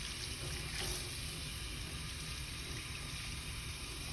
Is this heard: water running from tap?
yes